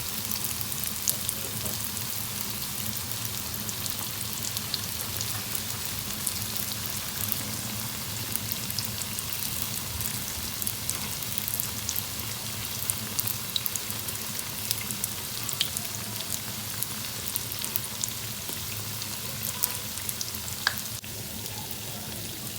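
Puff-puff dough balls frying in hot oil, a dense, constant sizzle and crackle that carries on evenly throughout, close and fairly loud with no talking.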